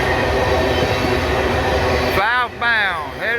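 A BNSF intermodal pig train rolls through Abbeville, South Carolina, with a loud, steady rumble of wagons up close, then sharp, pulsing wheel squeals toward the end.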